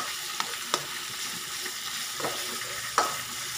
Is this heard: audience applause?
no